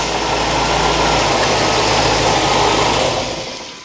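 A Corvette C4 ZR-1 barn find runs just after a jump start, a steady low rumbling idle close by, then fading as it dies at the end.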